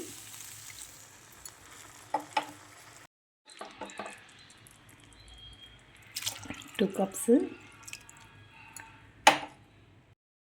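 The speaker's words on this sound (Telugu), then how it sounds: "మనం వచ్చి ఫోర్ అండ్ హాఫ్ కప్పు పాలు వేసుకుందాం" Coconut milk is poured over rice for a pulao, with short splashy pouring sounds, a few light clinks and a pause, while someone talks between pours.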